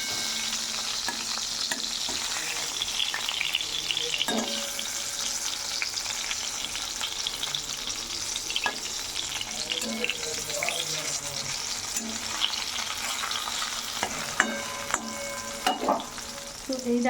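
Eggplant slices fry in a pan in a home kitchen, giving a steady close sizzle broken by scattered clicks and stirring knocks.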